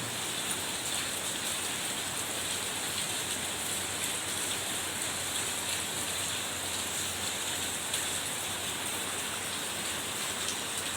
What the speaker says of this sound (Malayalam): ആനന്ദദായകമാണ് ഈ പേമാരി